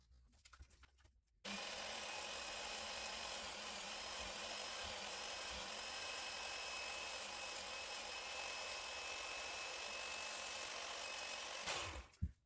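After a quiet start, a belt grinder with a medium belt kicks on and sands a Damascus knife blade with a steady, loud abrasive whine that runs continuously before spinning down.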